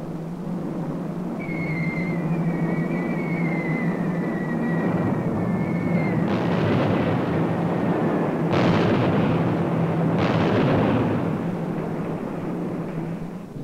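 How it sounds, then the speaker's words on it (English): Archival footage of German Luftwaffe aircraft bombing defenseless Spanish cities: a sustained low rumble with heavy blasts landing in bursts, and a descending whine above the roar, loud and continuous with no voices. "The German Luftwaffe terrorizes the Spanish people by bombing defenseless cities."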